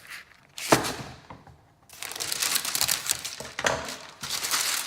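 Sheets of baking paper cut and handled with scissors in a home kitchen while preparing Christmas cooking: close, dry crinkling bursts, one sharp rustle followed by a longer stretch of continuous crackling and crumpling.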